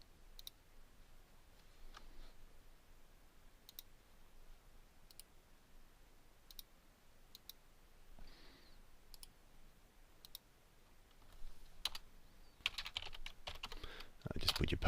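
Typing on a computer keyboard, sparse soft key clicks spaced out over a quiet background, becoming a quicker, louder burst of keystrokes near the end.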